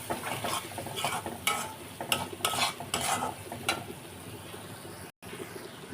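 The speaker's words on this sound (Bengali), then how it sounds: "হলুদ, মরিচ, ধনিয়া, একটু জিরা আর আদা রসুন দিয়ে এখন মশলাটা কষাবো" Spices with turmeric, chili, coriander, cumin and ginger-garlic sautéing in a pan, a continuous sizzle broken by several quick stirring scrapes, then a brief dropout and quieter frying.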